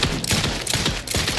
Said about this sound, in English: Don't shoot me like that.